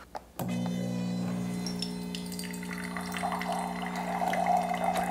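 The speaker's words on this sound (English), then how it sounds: "And now I'm just making hot water with the MCU." A BUNN MCU single-cup multi-use brewer dispenses hot water, starting abruptly with a pump hum and a steady pouring stream that grows slightly louder and splashier toward the end, close-up with no talk.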